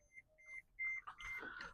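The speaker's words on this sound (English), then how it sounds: "Sorry about the incessant beeping." Faint electronic beeps repeat in short tones, quiet and thin, before a muffled clatter of other noise takes over.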